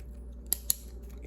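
A ballpoint pen, a Disneyland Mickey Mouse pen, jabbed at the side of a cardboard toy box, giving two sharp, brief snips or pokes about a fifth of a second apart over a low steady hum, with no talking.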